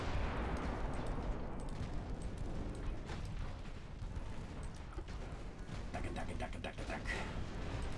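Naval gunfire in the warship battle game Ultimate Admiral Dreadnoughts, including 9-inch guns, crackles as a dense, continuous barrage of distant booms and bursts, fairly quiet throughout.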